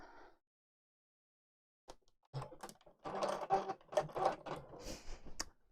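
Sewing machine stitching the lining of a fabric bag, with a whirring mechanical run of rapid needle strokes after a brief pause, fairly close and moderately quiet.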